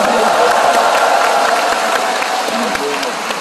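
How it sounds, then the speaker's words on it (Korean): Loud, sustained applause from a large audience at a Democratic Party joint campaign rally in Cheongju Gymnasium, with steady dense clapping filling the hall and voices mixed in underneath. "뜨거운 박수 부탁드립니다"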